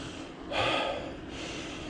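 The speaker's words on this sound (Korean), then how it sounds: "숨소리로 코나 입으로 들이마시면서" One audible breath is drawn in through the nose or mouth, a short, fairly close airy inhale that swells and fades within about half a second against steady background noise.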